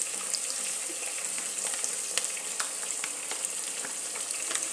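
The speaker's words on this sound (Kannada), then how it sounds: "ಅದಕ್ಕೆ ಈರುಳ್ಳಿ ಟೊಮಾಟೋನ ನೀಟಾಗಿ ಫಸ್ಟು ಬೇಯಿಸ್ತಾ ಇದ್ದೀನಿ" Onion and tomato frying in a pan with puliyogare powder, a steady close sizzle with scattered crackles and light stirring scrapes, no voices.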